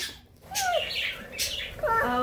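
Bright high chirps and peeps from quail chicks in a brooder, a few quick calls rising and falling, close by with a slight room hum beneath.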